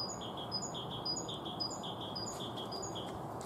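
Birds chirp outdoors in a steady run of short, high, repeated tweets over a constant low background hiss, with no voices.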